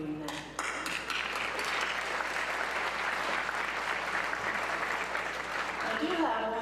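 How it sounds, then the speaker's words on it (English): Sustained crowd applause fills a high school commencement ceremony, dense and steady from start to finish, loud and close with no break. "I want to applaud you for doing that"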